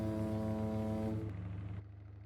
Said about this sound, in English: We have a lovely boat foghorn.